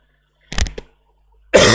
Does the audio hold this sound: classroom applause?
no